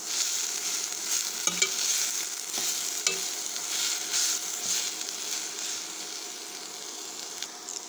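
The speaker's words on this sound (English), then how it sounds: "Just give a simple stir. With this I am adding the cut white cabbage." Chopped white cabbage is stirred into vegetables frying in a pan for a vegetable biriyani and kuruma, giving a continuous soft sizzle broken by occasional spoon scrapes and light clatter.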